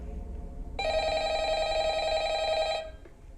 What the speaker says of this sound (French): Décroche-moi ce téléphone.